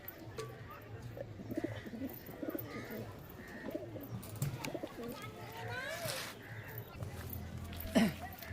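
Giribaz pigeons cooing inside a loft, soft repeated coos and rustling close by, under ongoing talk from people handling the birds.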